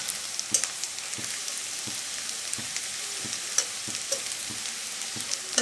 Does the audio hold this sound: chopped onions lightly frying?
yes